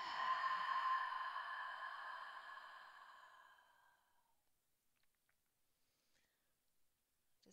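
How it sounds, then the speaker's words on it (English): An open-mouthed exhale during a guided yoga session: one long, breathy rush of air that starts strong and slowly fades out over about four seconds, followed by near silence. "Deep breath in through your nose. Open mouth, exhale."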